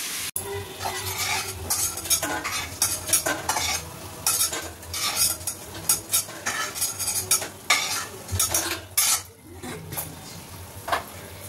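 Lentil fritters (dal bora) deep frying in hot oil, a steady close sizzle broken by repeated scraping and clinking of a metal spoon or spatula against the pan.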